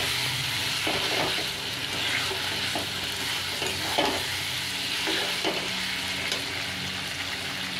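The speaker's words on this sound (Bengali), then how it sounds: "তো এটা আমি আর কিছুক্ষণ কষতে দেব।" Spice paste sizzling and being stirred in a pan for a new-potato dum dish, a steady close fry hiss with scraping stir strokes at irregular moments, no voices.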